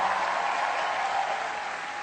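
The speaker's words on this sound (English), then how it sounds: "Round of applause for Ranveer Arjun." A comedy roast audience applauds, a steady, even burst of clapping from a large crowd that fills the whole short clip at moderate level.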